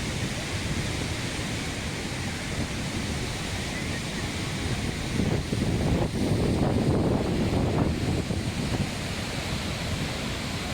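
Steady, dense rushing spray from Athirappilly waterfall in Thrissur, Kerala fills the air, a broad hiss that swells briefly louder midway, with no voices.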